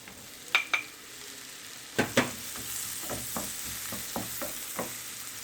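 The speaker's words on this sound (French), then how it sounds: "dans ma poêle bien chaude, je mets un morceau de beurre. J'ajoute ensuite mes oignons." Onions sizzling in butter in a hot pan, a steady close fry with a few sharp clatters and stirring taps over the hiss, no talk.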